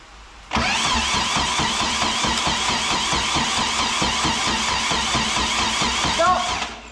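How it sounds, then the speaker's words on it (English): A VW Beetle engine, found in a barn and unrun for 40 years, cranks over steadily without firing: a loud, continuous rhythmic churning of the starter that runs for about six seconds and then stops. "so let's put a bit of petrol in and see if we can get it started up."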